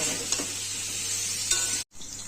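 Pointed gourd frying with salt in a pan gives a loud, steady sizzle, with a couple of stirring scrapes and a brief cut to silence near the end.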